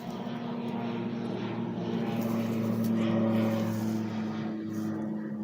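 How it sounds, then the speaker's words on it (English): A propeller airplane passing overhead outdoors, its engine a steady, loud drone with a low hum that swells slightly toward the middle of the pass and stays alone without talk. "I'll wait till the plane's done flying over."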